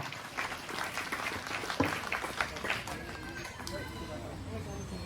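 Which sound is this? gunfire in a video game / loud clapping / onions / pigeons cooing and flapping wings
loud clapping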